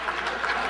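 A brief, steady wash of audience clapping at a speaking event, moderately loud, with no voices over it.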